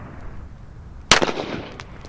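A single sharp, loud gunshot from a Springfield 1911 pistol fired at an ammunition box outdoors, a close crack followed by a brief fading echo, with no voices.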